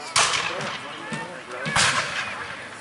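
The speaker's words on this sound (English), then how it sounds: "they will begin to employ their artillery to bombard the Virginians" British cannon artillery firing at a Great Bridge battle reenactment: sharp booming shots, several in quick succession with a louder blast near the end, ringing out over an open field.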